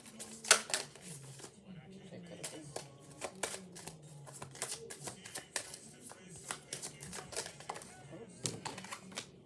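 Quiet rapid riffling and flicking of cards in short bursts, with soft clicks and a faint voice murmuring in the background.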